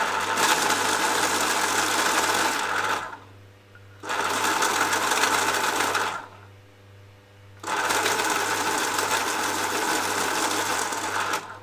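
A yellow coloured pencil is sharpened in three long, steady grinding bursts separated by short pauses, close and fairly loud with no talking.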